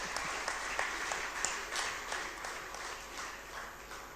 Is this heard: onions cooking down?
no